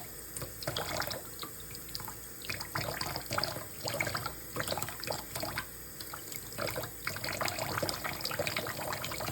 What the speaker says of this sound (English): So this is me taking it out of one sink, putting it into another. So we can rinse it manually.